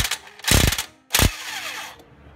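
Socket ratchet unscrewing a bolt on a Nissan Altima during driver's side CV axle and wheel bearing work, two loud bursts of rapid clicking close up, separated by a short pause.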